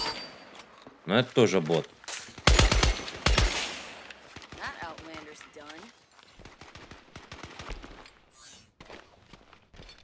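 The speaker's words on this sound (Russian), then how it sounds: "Нет, кто-то стреляет еще." Gunfire in the battle-royale game Scavengers: loud bursts of rapid shots crack out early on, then scattered single reports follow while someone talks over much of the action.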